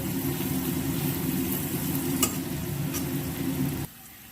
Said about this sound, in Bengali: এবার রসুনটাও একটু ভালো করে ভেজে নেব